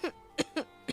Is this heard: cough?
yes